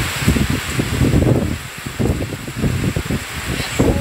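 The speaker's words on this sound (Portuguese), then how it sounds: "Chuva com vento" Rain driven by wind falls in northeastern Brazil, a dense continuous hiss with gusting surges and rustling, fairly loud and close, with no talking.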